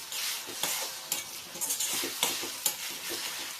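Tempering for lemon rice sizzles in a hot pan while being stirred, with bright crackling frying broken by repeated scrapes and clinks of a utensil against the metal.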